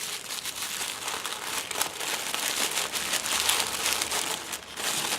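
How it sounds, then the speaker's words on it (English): A package of art supplies is ripped open: close, continuous crinkling and tearing of wrapping for several seconds, steady and fairly quiet, with no talk. "Let's just rip this open."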